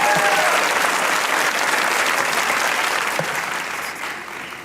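A studio audience bursts into sustained applause, a dense steady clatter of many hands that holds strong and then gradually tapers off near the end, with no talk over it.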